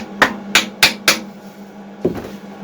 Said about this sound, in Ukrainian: Щоб сальник стояв рівненько, де не рівненько, добиваємо.